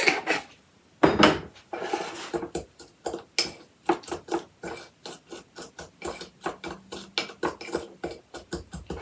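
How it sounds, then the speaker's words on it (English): Salt and baking soda mixed in a tiny bowl, a quick run of rhythmic scraping, rasping strokes of a utensil against the bowl, close and crisp, with a louder burst near the start and steady repeated rubs after. "I'm just going to give that a mix and break up any lumps that there are in here."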